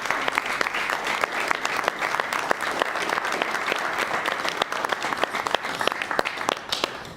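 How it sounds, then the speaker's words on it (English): An indoor audience at a commission meeting gives a sustained round of applause, dense and steady clapping from many hands with no talk over it. "let's give them a big round of applause."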